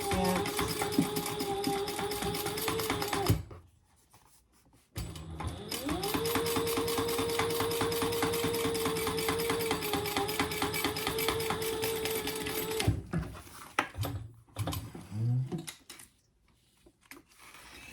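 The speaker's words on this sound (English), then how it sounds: "we're gonna top stitch that right at 1/8 inch" A sewing machine topstitches a seam at 1/8 inch in two long steady runs of rapid stitching, separated by a short pause, then stops with a few handling clicks.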